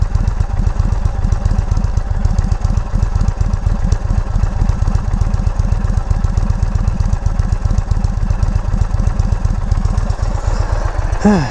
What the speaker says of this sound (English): But for a stock exhaust, I will say it's not that bad.